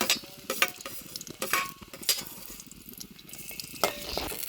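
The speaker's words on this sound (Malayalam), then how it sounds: "ആദ്യം തന്നെ നമുക്കിതിലേക്ക് എണ്ണ ചൂടായി ഇഞ്ചി വെളുത്തുള്ളി ഇട്ട് കൊടുക്കുക." Ginger and garlic frying in hot oil, with a soft continuous sizzle broken by scrapes and clinks as a spoon stirs the pan, heard close with no talking.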